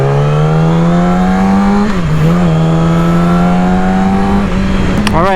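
A Yamaha R6 600cc sport bike engine runs loud and close with a loose throttle, its pitch holding steady, dipping briefly, then climbing again in a sustained rev.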